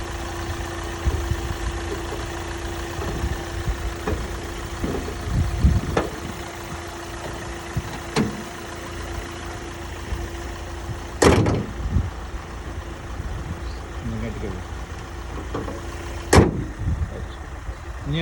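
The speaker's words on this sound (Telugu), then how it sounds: "ఇంజన్ నాయిస్ని మనం ఇక్కడ చాలా క్లియర్గా అబ్జర్వ్ చేయొచ్చు" A Hyundai i20 petrol car's engine idles with the bonnet closed after a carbon-cleaning injection, a steady low hum running throughout, broken by a few sharp knocks or clicks and occasional louder bumps.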